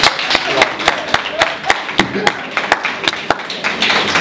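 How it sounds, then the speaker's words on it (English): A single person clapping hands in a steady rhythm of about a dozen sharp claps, close and loud, with some room noise between them. "I should do some clapping right now"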